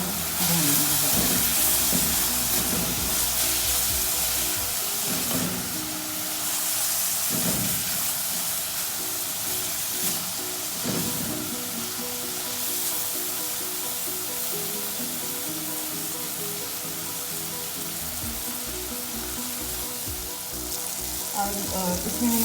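Minced meat with bitter gourd and black pepper sautéing in a pan, with a loud continuous sizzle and hiss, occasional scraping stirs and faint background hum, close and sustained with no voices.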